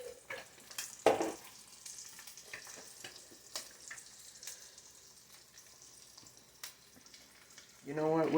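A burger fries in bacon grease with a soft, steady sizzle under intermittent scrapes and clatter. People talk over it, and their voices grow louder at the close.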